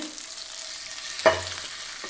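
An egg fries in a pan with a faint, steady sizzle, broken by one sharp clink or scrape partway through.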